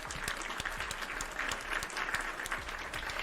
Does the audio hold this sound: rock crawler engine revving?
no